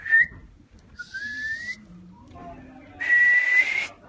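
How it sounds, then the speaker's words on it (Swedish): A person whistles three separate ways backstage at Melodifestivalen 2016 in Gävle: a short high note, a longer steady tone, then a brighter, louder sustained whistle after a pause, each alone and close. "Jag kan vissla tre sätt."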